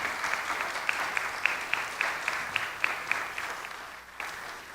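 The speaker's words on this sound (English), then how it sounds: "Can you please give them a round of applause for making it a priority to be here today?" An audience at a candidates forum applauds, with crisp individual claps standing out in a steady rhythm over the group's clapping, which thins and fades toward the end.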